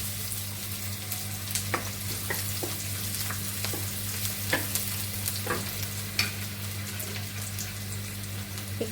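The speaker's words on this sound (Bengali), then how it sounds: "আমি পেঁয়াজের সঙ্গে এগুলোও ভেজে নিচ্ছি" Ingredients frying with onions in a pan give a continuous soft sizzle, with light stirring taps and scrapes recurring every second or so over a low steady hum.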